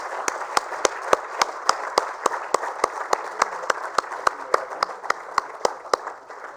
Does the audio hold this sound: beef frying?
no